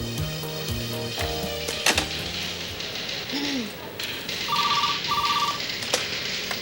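An office telephone rings in short trilling bursts, fairly faint, over low background noise and rustling, with no talking.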